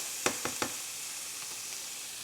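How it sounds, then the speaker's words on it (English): Frozen vegetables sizzle dryly as they sear in a hot pan under a constant hiss, with three quick clacks of a utensil early on and fainter stirring taps later. "now it sounds dry. It doesn't sound like it's boiling. It's starting to sound like it's searing."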